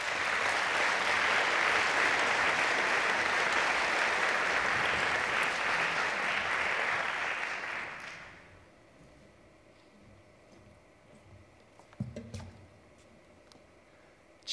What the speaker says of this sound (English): arriving at the podium after the applause has ended